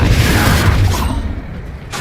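A Confringo spell explosion in the Hogwarts Legacy video game bursts as a loud, dense boom. A broad crashing rumble sustains for about a second, fades into a dimmer low roar, then surges again at the end.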